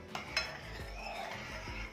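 Soft scraping and light clinks of a spoon stirring sabudana kheer thickening in a pot, a few strokes over quiet kitchen background.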